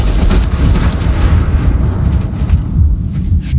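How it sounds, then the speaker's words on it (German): A helicopter crashes close by in the video game Ghost Recon Breakpoint, giving a loud, sustained rumbling explosion with crackling debris that fills the whole clip. "Stürzt der Hubschrauber genau neben mir ab"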